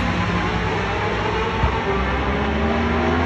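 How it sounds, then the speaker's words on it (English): A steady, loud rumble of a tram rolling along rails around a motorsport park track, continuous with a low mechanical drone and no talking. "right there goes the tram that runs around the entire track"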